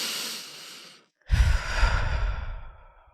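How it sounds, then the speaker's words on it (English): A big, deep breath drawn in during a guided stress-relief exercise, a loud, close, steady inhale lasting about two seconds that follows a brief silence. "take a big deep breath in"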